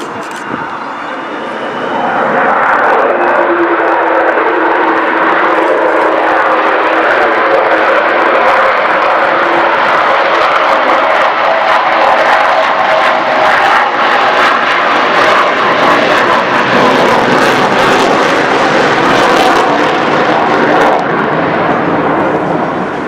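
An Avro Vulcan XH558 delta-wing bomber flies at the Eastbourne air show, its jet engines producing a loud, sustained broadband roar that swells and persists for around twenty seconds while an announcer talks over it.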